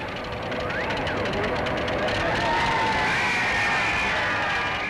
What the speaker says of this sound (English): Everybody's yelling and cheering